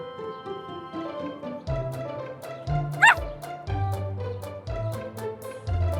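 Cartoon puppy yapping in a children's animation, a series of short barks and yips over a bouncy musical background, repeated steadily across the scene.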